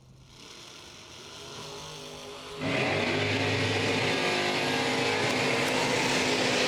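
A drag racing Camaro at a bracket racing event launches hard down the strip, its engine jumping from a steady idle rumble to a loud, sustained full-throttle roar that stays close and powerful to the end.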